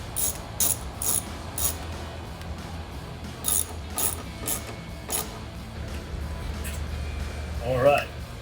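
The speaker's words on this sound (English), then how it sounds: "Utilize your bolts and use your T40 star bit to tighten those down." A T40 star bit tightening bolts on a Jeep Wrangler mirror mount, a ratchet clicking in short rhythmic bursts, close and fairly loud, with a mechanical rattle near the end.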